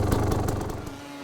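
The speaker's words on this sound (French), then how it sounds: "le moteur tourne" A motoball motorcycle engine runs with a rough, rapid low rumble and rhythmic revving pulses, loud and close, then eases off as a steadier hum lingers at the end.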